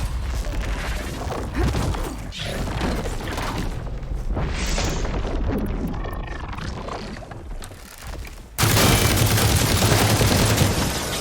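Heavy combat in Horizon Forbidden West: Burning Shores, a dense, loud barrage of shots, crashes and booms running continuously, with a sudden louder burst near the end.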